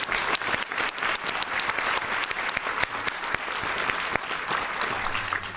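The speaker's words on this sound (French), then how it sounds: "Pas besoin non plus de crier sur ceux qui applaudissent mal" Sustained audience applause in a cinema hall at a film festival closing ceremony, a steady wash of many hands clapping with sharp individual claps standing out, continuous throughout.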